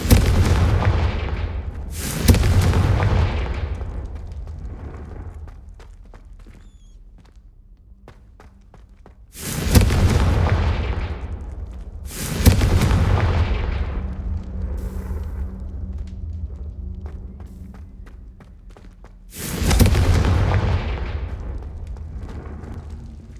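Confringo blasting spells explode in the video game Hogwarts Legacy: five loud, booming blasts at uneven intervals, each fading in a long rumble, with quieter clatter and footsteps between them.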